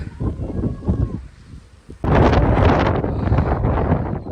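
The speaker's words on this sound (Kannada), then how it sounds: "ಗಾಳಿ ನೋಡಿ ಯಾವ ರೇಂಜಲ್ಲಿ ಬೀಸ್ತಾ ಇದೆ ಅಂತ" Strong wind on Shivagange hill roars and buffets the microphone, easing briefly before a louder, sustained gust takes over.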